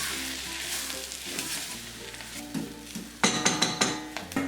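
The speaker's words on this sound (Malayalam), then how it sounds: "ആവശ്യത്തിനുള്ള ഉപ്പും ചേർത്ത് ഇതൊന്ന് ഇളക്കി കൊടുക്കാം" Ground spices (turmeric, roasted fennel powder and salt) fry and sizzle in a pan for potato curry as they are stirred, a steady close hiss with clinking spoon-against-pan strikes near the end.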